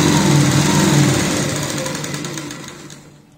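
A sewing machine stitching piping strip onto a sleeveless kurti, a close, steady mechanical whirr that slows and fades out over a few seconds.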